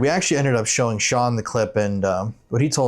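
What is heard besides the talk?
No distinct noise like a dog, phone or traffic.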